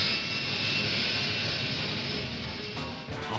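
A Yak-15 jet fighter powered by a German 004 jet engine mounted under the fuselage roars close and loud with a steady high whine, easing slightly toward the end, with no voices.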